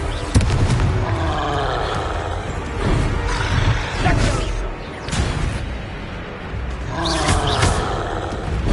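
Confringo fire-blast spells in Hogwarts Legacy: dense, continuous crackling and roaring blasts with several louder bursts, layered thickly over the rest of the game's noise.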